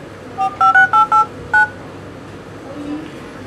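Dialing tones on a UMI X1 Pro smartphone: six short, clear beeps tapped in quick succession, then fading into a faint room murmur.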